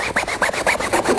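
Rapid back-and-forth rubbing on a Takla car seat cover to work dried glue off it, about ten short, scratchy strokes in quick, steady rhythm, close and moderately loud with no talking.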